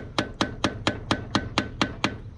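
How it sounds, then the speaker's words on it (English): Eight evenly spaced, sharp metallic hammer taps on the brake hub of a log truck during brake disassembly, close and distinct in a steady rhythm with nothing else heard. "That's why I use a hammer like that."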